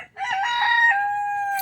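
A rooster gives one loud, close, drawn-out crow in a backyard chicken coop, rising sharply and then holding a long, even tone before breaking off at the end.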